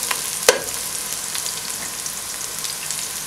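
Slit green chilies fry in hot oil for mutton biryani, producing a steady, close crackling sizzle with one sharp click near the start and no talking.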